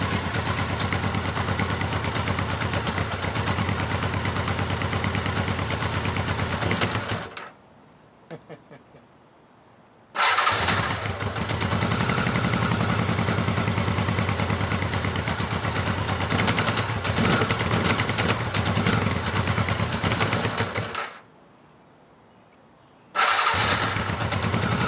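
A 1983 Honda Nighthawk motorcycle engine roars loudly and steadily close by, then cuts out twice into a few seconds of near silence before running again.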